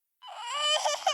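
A mobile phone ringtone of a baby crying in an office, loud and close, starting abruptly and wavering up and down for about a second.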